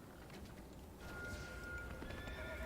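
Cavalry horses in the strategy video game The Battle for Middle-earth neigh and gallop, with clip-clopping hooves and a drawn-out whinny over a busy battlefield ambience, moderately loud, with no speech.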